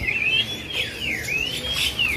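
Female oriental magpie-robin (kacer) at a bird seller's shop giving a clear, sweeping whistled call of rising and falling notes, fairly close, over low background rumble.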